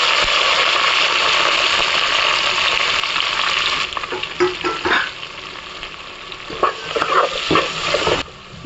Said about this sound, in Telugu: ఇప్పుడు ఇందులోనే ఆనియన్స్ పచ్చిమిర్చి కూడా వేసుకుందాం